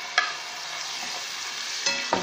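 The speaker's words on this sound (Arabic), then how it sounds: "الزيت عندي سخن اهو، هجيب بقى المخصة هنزلها اهي" A batter mixture hits hot oil with a bright, constant sizzle, broken by a couple of sharp clinks and scrapes from stirring, close and alone without speech.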